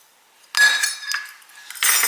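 Small spoons clink and jingle against one another in two bright metallic bursts, close and fairly loud, with a short ringing tone between them.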